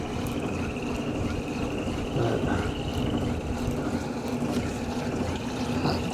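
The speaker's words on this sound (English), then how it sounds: "it is now going into the final spin cycle" An off-grid washing machine running on solar power in its final spin cycle, a steady low whirring hum with a faint tonal whine, continuous and fairly quiet throughout.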